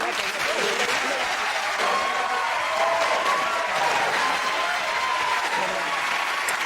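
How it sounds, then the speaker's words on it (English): A television panel-show studio audience claps and cheers for the winning team, a dense, sustained wave of applause that stays full and even throughout, with a voice faintly underneath. "cheers and applause to our winners"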